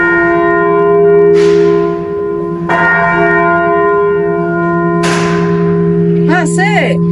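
Church bells in Ypres, Belgium ring out the hour of three, loud and near, with repeated struck tolls over a steady sustained hum of ringing overtones, and a brief quicker chime near the end.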